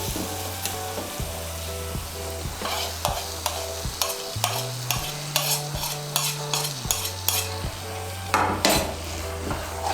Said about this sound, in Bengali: পোস্ত বাটাটাকেও ভালো করে মিশিয়ে নেব মশলার সঙ্গে